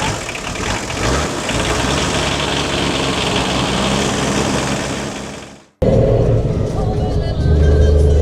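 A Mitsubishi Pajero's engine turns over after a jump start on an off-road outing, a loud rough clattering run that fades, breaks off abruptly, then resumes as a steady idle.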